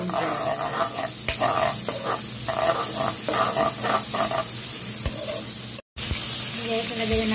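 Onion, garlic and ginger frying in hot oil make a loud, dense, hissing sizzle that carries on steadily up close, with a few stir scrapes and a very brief dropout near the end. No one speaks.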